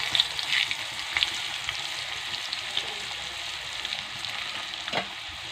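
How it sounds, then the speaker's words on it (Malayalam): Food frying in a pan, a steady bright sizzle with faint crackles and occasional soft pops throughout. "ഫ്രൈ ചെയ്തെടുക്കാം കുറച്ചിച്ച് ഇട്ട് ഫ്രൈ ചെയ്തെടുക്കാം"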